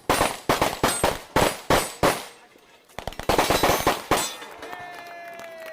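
Rapid handgun shots at a European Handgun Championships shoot-off match, sharp loud cracks in quick bursts with a short pause between strings, some faint ringing metallic clinks afterward.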